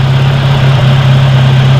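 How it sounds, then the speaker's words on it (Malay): A car engine fitted with an upgraded fuel pressure regulator idles with a steady, loud, droning hum that holds constant throughout, close to the microphone, with no voices. "Bila kita enjin start tu dia agak bising sikit."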